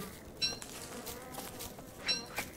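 Bees buzzing in Don't Starve Together around a destroyed beehive, a faint insect drone with a few brief louder buzzy swells passing close.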